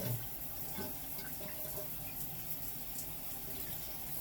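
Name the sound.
water rinsing off body scrub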